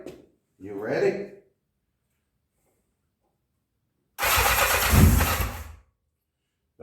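1984 Honda CB700SC Nighthawk motorcycle after a carb clean, with a short burst of cranking followed by a loud, rough start about two seconds long before it cuts out. A voice is heard near the beginning.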